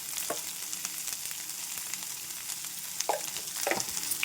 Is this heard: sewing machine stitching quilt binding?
no